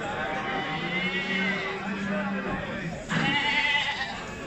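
Saanen goats bleat repeatedly at a livestock market, with nearby bleats rising over steady crowd chatter and background talk.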